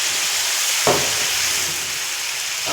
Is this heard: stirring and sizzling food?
yes